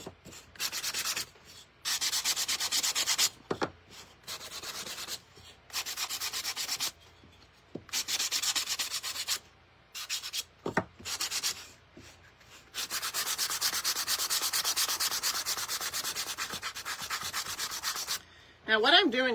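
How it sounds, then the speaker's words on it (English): A painted wooden block is sanded by hand to distress it, with long bursts of steady rasping friction broken by short pauses, close and loud, with no voices. "I'm going to give it a good sand."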